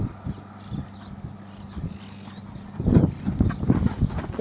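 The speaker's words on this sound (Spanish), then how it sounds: "es un caballo que tiene mucha fuerza" A strong horse working in an arena or pen, with hooves clip-clopping in uneven beats that grow louder and busier toward the end, over steady background noise.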